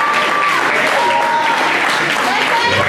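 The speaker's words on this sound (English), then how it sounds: "So give them a round of applause." Applause rises from the audience at a juvenile open couples New Vogue ballroom dance final, a loud, steady wash of clapping in a large hall with faint whistles or cheers mixed in.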